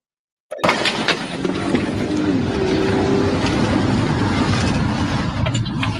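A car comes in hot, a sudden loud burst of engine and road roar kicking in after a brief silence and holding close and heavy, with faint talk under it.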